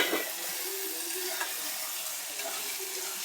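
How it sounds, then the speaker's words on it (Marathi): Whole masoor lentils being sautéed in a pan give off a steady, close sizzle with light stirring scrapes throughout, and no voices are heard. "अख्खे मसूर आपण परतून घेऊया"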